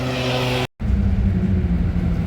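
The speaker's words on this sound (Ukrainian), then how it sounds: "Он їде наш автобус." City bus in the Netherlands arriving at a stop, a low steady engine rumble broken by a very short gap, moderately close with no voices.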